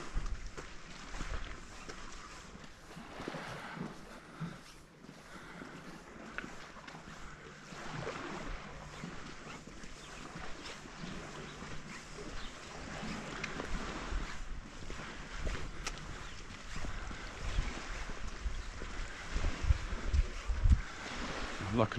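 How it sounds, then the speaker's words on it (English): Gentle waves ripple against the rocks at Illetas beach on a calm day, a steady soft wash with wind buffeting the microphone and a low boat-like rumble throughout. "just nice to hear the rippling of the waves against the rocks here."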